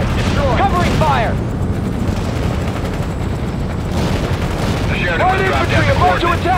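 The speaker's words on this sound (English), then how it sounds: "Use that machine gun!" Automatic gunfire and explosive booms from the real-time strategy game World in Conflict, with battlefield voice lines and radio chatter running throughout; bursts of firing come in loud, dense waves with shouting voices layered over the combat.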